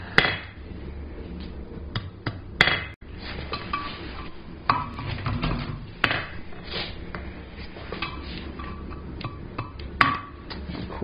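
Hammer striking hot steel on the heel of an anvil while forging a ball-end coat and hat hook, a series of sharp metallic ringing blows spread irregularly over a steady shop background, close and moderately loud.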